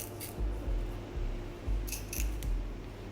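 Scissors snipping through wig hair, four or five crisp, evenly spaced cuts close by over a soft background hiss, no talking.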